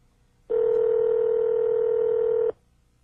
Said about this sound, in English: Use the knob to select the digits in the number you wish to dial